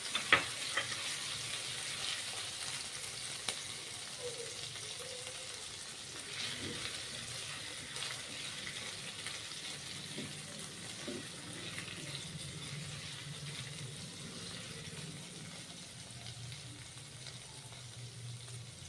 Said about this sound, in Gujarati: તો આપણું ઘી ગરમ થઈ ગયું છે. તેમાં સૌપ્રથમ આપણે આદુ, મરચાં અને લસણની પેસ્ટ નાખીશું.